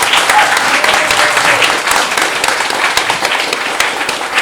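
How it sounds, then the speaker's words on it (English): Audience applause fills a Christmas concert, a dense, steady wash of many hands clapping close and loud from start to finish. "So we'd like to give the audience a round of applause."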